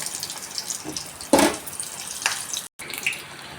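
Chili bhaji fritters dropped into hot oil, a soft fizzing sizzle with a brighter crackling burst as batter hits the oil, faint and close, broken by a brief gap.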